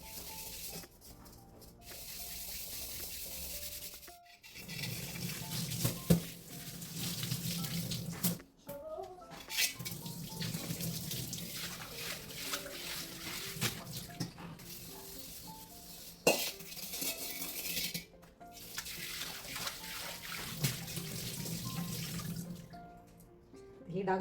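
A brass wok being scrubbed in a kitchen sink under a running tap, with steady rushing water broken by brief pauses and scattered clinks as the metal is rubbed and handled.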